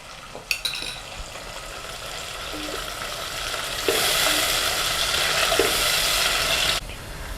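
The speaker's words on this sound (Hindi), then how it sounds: "अब हम लहसुन और अदरक भी इसमें डाल देंगे और 2-4 मिनट इन्हें भी भूनेंगे।" Garlic and ginger are added to golden onions in a hot pan and fry, with a soft steady sizzle, stirring scrapes and clinks, and then a louder burst of frying that hisses for a few seconds before easing off.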